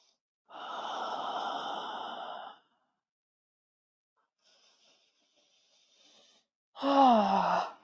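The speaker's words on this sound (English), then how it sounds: "Deep breaths in here. 2 more breaths." Deep, slow breathing during yoga practice: a long airy exhale, a quiet pause with faint breath, then another strong breath with a throaty, sigh-like edge, close and alone with no talk.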